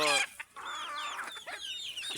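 Native chickens cluck nearby in short, choppy bursts at midday feeding, one louder call opening before softer clucks and chatter continue.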